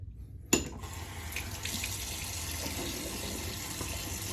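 Water runs from a bathroom sink tap into a bowl in the basin during a wet shave, a steady close splashing stream that starts abruptly and continues without talk.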